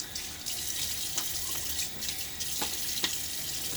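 Tap water runs into a sink as a face is wetted before a shave with a Gillette Tech Hybrid razor in hard water, a steady hiss with small splashes, close and fairly quiet, with no talk.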